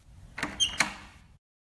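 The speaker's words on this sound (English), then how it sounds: "the last sound from Melissa is the sound of a door being unlocked." Door being unlocked: a few quick metallic clicks and clacks of a lock turning, close and sharp, followed by silence.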